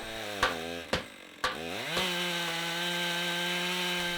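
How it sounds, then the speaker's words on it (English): A chainsaw rig cutting bevels in dense wood for wooden boat frames sputters through a few quick revs, then settles into a steady, droning whine that holds close and loud to the end. "The next morning, they were firing up their unique chainsaw rig."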